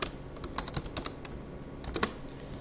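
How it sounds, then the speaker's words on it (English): Typing on a computer keyboard while writing an instant message in point-of-sale software, with a quick run of close, crisp key clicks, a few brief pauses between them, and a sharper burst of keystrokes near the end. "go ahead and type in a text"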